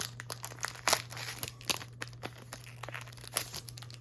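A Pokémon card pack's foil wrapper being pulled and torn open up close, with a run of sharp, irregular crinkles and crackles and a steady low hum underneath, no talking.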